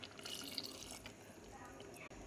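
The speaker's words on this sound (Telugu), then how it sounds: "ఇప్పుడు కొంచెం వాటర్ వేసుకుందాం" Water is poured into a simmering tomato masala curry in a pan, a soft, faint splash and trickle that runs steadily for a couple of seconds against a quiet kitchen background.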